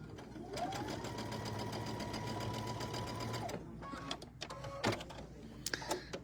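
A sewing machine stitches a diagonal seam through quilting cotton for a tabletop banner, running as a steady close whir for about three seconds before stopping, followed by quieter handling clicks and rustles.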